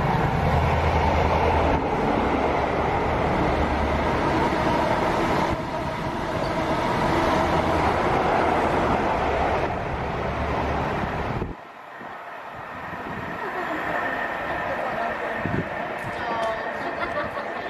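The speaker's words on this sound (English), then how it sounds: "fast train approaching." A fast train rushes through a station platform with a loud sustained roar and rumble of wheels on rails, easing off toward the end, while voices and a platform announcement carry over it.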